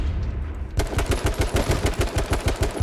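Gunfire in the video game H1Z1: after a brief quiet moment, a rapid, steady string of loud, close shots fires in quick succession and continues to the end.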